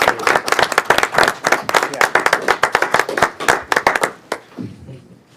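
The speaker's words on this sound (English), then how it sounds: "I need to stand up and applaud you." Applause in a city council meeting, a brisk mix of close hand claps from a modest group, lively and steady before thinning out to a few scattered claps and quiet.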